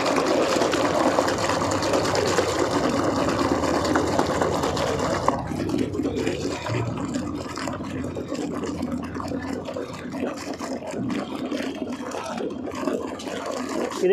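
Water mixed with a small amount of washing powder is agitated to whip up foam, giving a steady loud churning, sloshing rush that turns thinner and more frothy partway through, with no talking.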